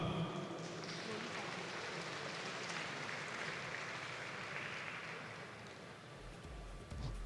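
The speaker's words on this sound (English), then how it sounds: "please give our winners a huge round of applause" Sustained, dense applause from a large conference audience cheering award winners, a steady roar of many hands that is faint and distant and continues evenly without letting up.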